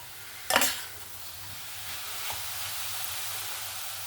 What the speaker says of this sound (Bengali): এবার এরকম অনবরত নাড়াচাড়া করে এই পুরটাকে বানিয়ে নিতে হবে